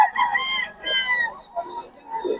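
Chickens for sale clucking and a rooster crowing in the rain, loud and close, with short bursts of calls over a few seconds.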